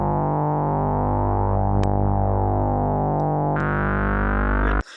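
Synthesized harmonic tones steadily hold and glide in pitch between random values, buzzy and loud, with brief clicks and a sudden cutoff near the end.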